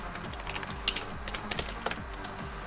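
Typing on a computer keyboard in a notepad during a Minecraft live stream, soft irregular key clicks in short bursts, close and alone with no speech.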